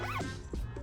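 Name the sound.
zipper on a backpack being opened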